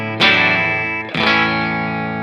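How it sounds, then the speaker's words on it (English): Two strummed electric guitar chords ring out with long sustain, played on a bridge single-coil pickup through a clean boost and the clean gain channel of a Cornerstone Gladio pedal, no compressor; bright, jangly and loud, no talk. "my usual go-to rhythm sound would be no compressor, the clean boost, and the clean gain of the Cornerstone Gladio."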